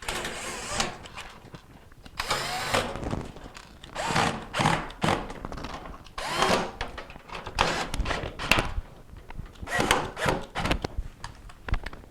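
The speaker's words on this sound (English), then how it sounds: "we can reinstall our screws." A power drill drives screws into an LG refrigerator cabinet, with bursts of whirring and rubbing against the panel in uneven spurts, close and moderately loud, with no voices.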